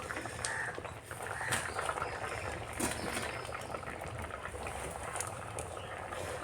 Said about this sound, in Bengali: দেখো সবজিগুলো মোটামুটি এই যে দেখো অনেকটাই সিদ্ধ হয়ে গেছে